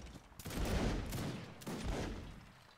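A volley of musket fire from an infantry line in the Mount and Musket video game crackles out in two loud rolling bursts of overlapping shots, dense and booming, with no talk over it.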